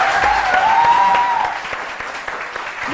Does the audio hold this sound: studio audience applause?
yes